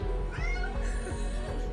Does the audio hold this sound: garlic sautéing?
no